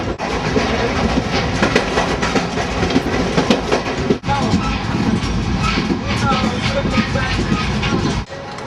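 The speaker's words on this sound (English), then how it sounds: "This being the inside of the train. Second class." Inside a second-class train carriage in Rajasthan, India, a loud steady rumble of wheels and clattering carriage noise fills the space, with voices murmuring beneath it.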